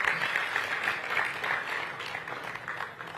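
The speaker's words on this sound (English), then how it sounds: "A round of applause for him, please." An audience at a mining conference applauds, a dense, even patter of many hands clapping at moderate volume for about three seconds.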